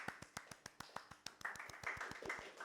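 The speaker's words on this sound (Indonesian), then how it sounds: "Boleh dong tepuk tangan." Small group clapping hands in an indoor talk-show setting, a quick run of sharp, evenly spaced claps, fairly close and quiet, rising slightly toward the end before stopping.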